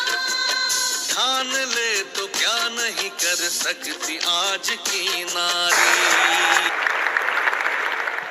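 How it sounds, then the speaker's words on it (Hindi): Audience applause on an Indian quiz show for International Women's Day, steady clapping running the whole length, with music or voices rising above it at points. "तालियां बजती रहनी चाहिए।"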